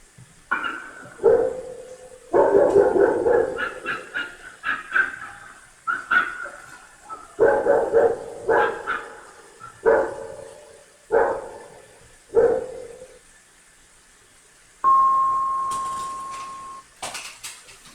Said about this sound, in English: the two dog owners tried to calm their pets down